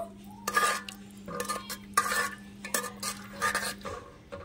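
Fried semolina sweets are stirred into hot sugar syrup, with a series of close metal spoon scrapes and clinks against the pan, quiet between strokes, over a faint low hum and no voices.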